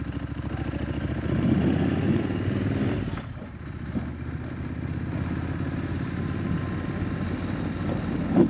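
A motorcycle carrying two riders on a ride through New Orleans, its engine a steady, loud drone with wind rush throughout, dipping briefly around the middle before resuming its even run.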